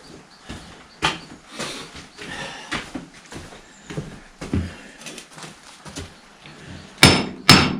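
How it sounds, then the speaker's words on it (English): Small hammer tapping a seal into the guide of a 1955 Fordson Major tractor during a bull pinion rebuild, a series of irregular close metallic knocks ending in two louder blows. "Just a wee hammer."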